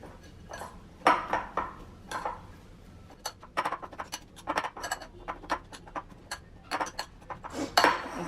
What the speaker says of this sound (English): we'll add a little bit of salt and give it a good mix